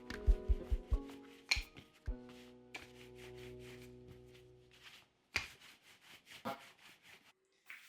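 Sweet potato chapati dough being rolled out on a floured mat, giving soft rubbing and rolling strokes with light knocks and taps, close and quiet over faint background tones.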